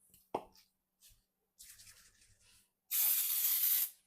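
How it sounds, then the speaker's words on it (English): Baking spray hisses from a can onto a Polish pottery baking pan in a kitchen, one steady burst of about a second following some soft taps and handling noises of the can and pan. "We'll go ahead and spray that with"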